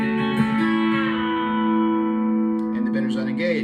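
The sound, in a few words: B-bender guitar playing the A lick up to speed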